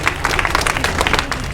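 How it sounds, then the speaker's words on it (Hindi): An audience claps together through a spiritual talk session, producing a steady, dense patter of applause that holds at an even level from start to finish with no voices above it. "ताली बजाओ भाई।"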